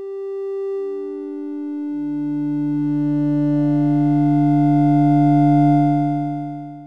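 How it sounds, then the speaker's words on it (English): A soft synth tone from Omnisphere, shaped between a sine and a triangle wave, glides down through three sustained pitches, clean and alone, swelling slightly before fading out. "So it's, you know, somewhere between a sine and a triangle."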